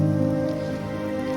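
Rain pours steadily onto a tilled garden bed of washed-out topsoil, a constant close hiss of drops that runs unbroken under a low, even hum, with nobody speaking.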